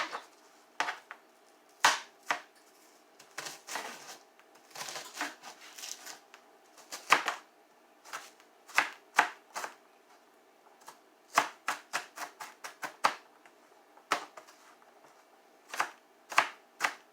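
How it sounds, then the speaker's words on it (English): A knife roughly minces an onion on a board, with sharp, close chops coming in irregular bursts and short pauses, and no talking. "Cut the onion in half. And give it a rough mince."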